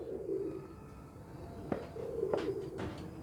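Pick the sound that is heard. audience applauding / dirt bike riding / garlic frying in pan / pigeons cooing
pigeons cooing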